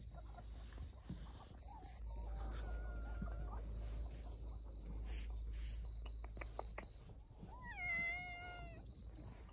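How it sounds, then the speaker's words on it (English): A cat meows once, fairly close, over a steady background of chirping crickets and faint outdoor ambience. "Friendly kitty."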